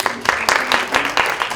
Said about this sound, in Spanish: Un aplauso a Nina.